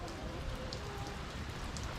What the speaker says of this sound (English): It's starting to rain hard again.